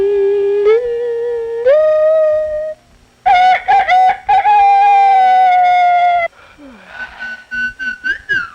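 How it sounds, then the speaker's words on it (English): A rooster crows in long, loud drawn-out calls, broken by a short gap, followed by softer clucking and chirping sounds, all close and clear with no talk. "What's a bird doing in my house?"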